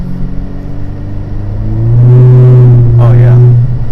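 A 2020 Honda Civic Si engine revving during a downshift, a steady engine drone that swells into a loud, sustained higher-pitched rev, with someone talking briefly near the end.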